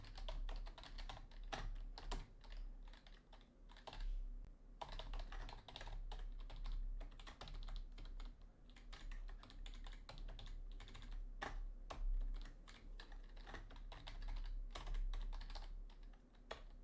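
Quick, uneven clacking of a computer keyboard, close and quiet, with steady bursts of keystrokes continuing for the whole stretch and no talking.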